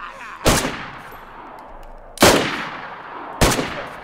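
Three loud, sharp Kar 98 bolt-action rifle shots in the DayZ video game, each a crack with a decaying echo tail, spaced a second or more apart.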